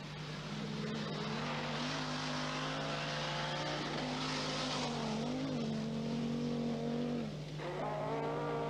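A rally car at the Welsh International Rally drives on into Aberystwyth on a Friday evening. Its engine holds a steady, loud drone and the pitch rises and falls as it shifts and accelerates.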